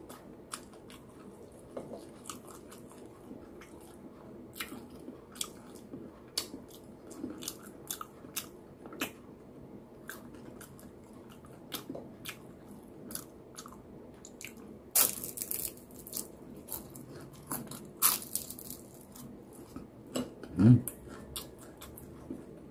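Fried food such as beefsteak and lumpiang shanghai is chewed during a breakfast mukbang, with quiet, scattered crunches and bites spread throughout and a few sharper crackles, close-miked and without talk.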